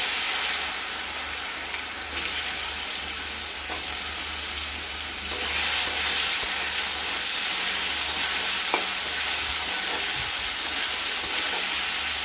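Potatoes and green banana fry in hot oil with cumin seeds and a dried chilli, a bright continuous sizzle that jumps louder partway through as stirring goes on, with occasional clinks.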